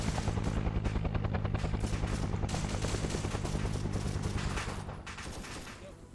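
Sustained machine-gun and rifle fusillade in a Vietnam War video game, dense rapid bursts under a steady low rumble that may include a helicopter, loud and continuous before easing slightly near the end.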